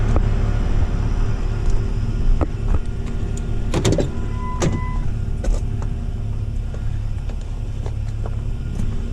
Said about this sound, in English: we gonna just extend her out a little bit